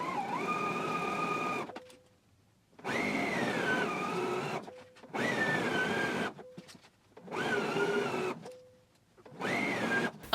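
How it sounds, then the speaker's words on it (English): Domestic sewing machine stitching around a garment waistband, running in four long steady bursts of motor whir and needle clatter with short quiet pauses between, close and loud with no talking. "now I'm going to go ahead and sew all the way around this waistband."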